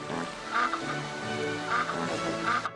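A novelty phone app plays a duck-like quacking sound meant to mimic a farting duck, three honking bursts in a row, loud and close with no talk.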